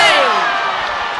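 Crowd noise at the Democratic National Convention, a loud, sustained mass of voices with a descending jeering tone, close and continuous through the whole moment.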